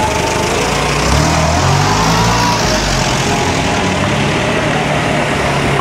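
A UAZ Bukhanka van engine runs steadily at idle just after starting, a loud continuous low rumble with no other sounds.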